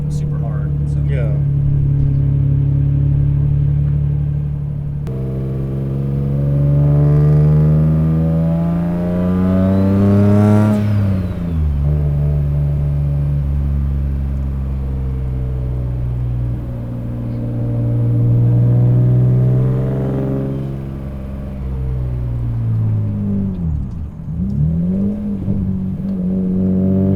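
A 600 hp single-turbo Nissan 350Z engine revs up and down repeatedly. Loud, close engine tone sweeps rising and falling pitch in several long pulls and stands alone without voices.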